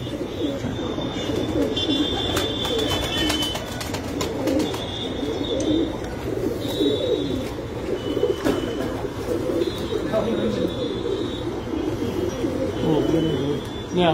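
Rooftop pigeons, including a prized bird, coo in a steady low murmur that carries throughout, joined by occasional higher chirps and background noise.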